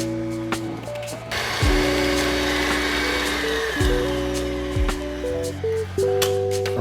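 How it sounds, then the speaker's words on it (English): An electric mixer whirs as it beats softened, room-temperature butter for lemon blondies. The steady motor hum sits under louder background music that changes notes. "I'm just gonna turn on the mixer and let the butter sort of get nice and soft and incorporate a little bit of air inside"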